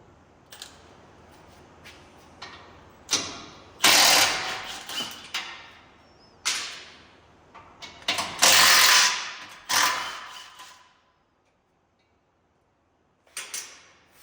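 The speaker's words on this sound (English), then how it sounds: "we're going to go ahead and unbolt these right now" A ratchet wrench unbolts the intercooler bolts on a 2021 Ford Bronco, with bursts of fast clicking and loud close metallic cranking, short pauses between turns and a brief silence near the end.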